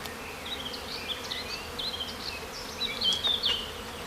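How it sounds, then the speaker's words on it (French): A swarm of honey bees being captured hums steadily at moderate loudness, individual bees zipping past with brief rising and falling buzzes that swell toward the end. "si on veut éviter que les abeilles s'envolent trop"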